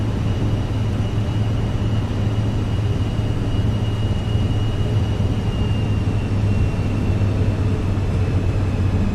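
A Vision Jet G2 taxiing in Microsoft Flight Simulator, its jet engine producing a steady, even whine and rumble with a faint high tone, continuous and unchanging throughout.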